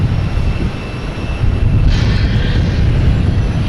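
A JetBlue jet airliner taking off at Boston Logan Airport, a loud sustained broadband engine rumble with a brief brighter swell partway through, steady and unbroken throughout.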